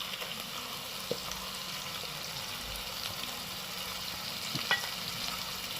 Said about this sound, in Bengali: এর মধ্যে যেহেতু রসুন আছে হালকা ফ্রাই করে নিতে হবে